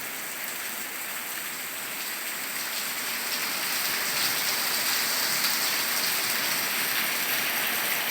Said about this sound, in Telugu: ఇప్పుడు చూడండి మా ఇంటికాడ అయితే భారీ వర్షం పడుతుంది